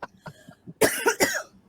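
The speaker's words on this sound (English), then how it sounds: "I've been having a cough for the last 2 weeks." A woman coughs in a quick series of harsh bursts, close and fairly loud, after a few softer throaty sounds.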